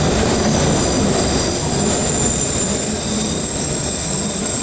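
A London Underground District Line train roaring loudly and steadily through the station, with a high metallic wheel squeal sustained throughout and no voices.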